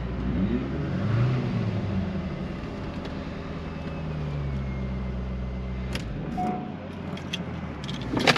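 A 2001 pace car tribute Corvette engine rumbles loudly up close, swelling in a few revs over a deep steady drone, with some sharp clicks and knocks near the end.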